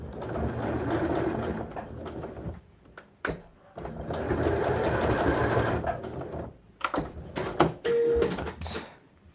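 A sewing machine runs in bursts while stitching a side pouch, its steady mechanical whirr loud and close, broken by short pauses and small clicks between runs.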